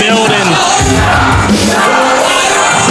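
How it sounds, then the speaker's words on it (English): A PWF wrestling crowd cheers loudly for Sawdust, with a dense wall of yells and shouts filling the echoing arena for the whole stretch. "So you hear the PWF faithful cheering here in support"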